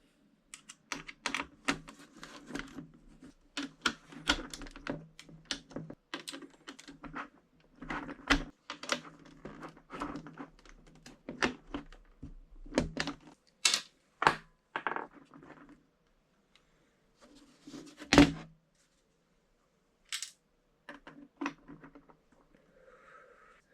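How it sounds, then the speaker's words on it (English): Screws being loosened to free the keyboard of an Atari 800XL from its case: a long run of dry clicks, taps and rattles, some sharp and close, thinning into sparse isolated knocks near the end, with no talking. "let's unscrew the keyboard"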